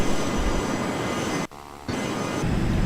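Steady broadband drone of an airplane engine cruising at night in the Air Hauler flight game, continuous and fairly loud, dropping out briefly mid-way before resuming.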